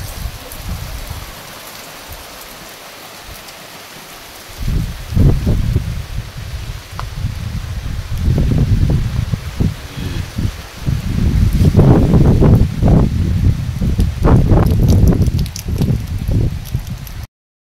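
Heavy rain falls steadily on leaves in a hillside village in Uttarakhand, a dense, close patter that swells louder in bursts over the second half of the clip, with no talk over it.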